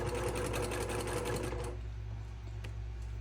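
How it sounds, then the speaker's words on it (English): Sewing machine stitching quilt fabric for a double wedding ring quilt, a steady fast rhythmic whirr that runs loud then stops, leaving a low hum. "So I'm moving the fabric down and towards where I've already sewn."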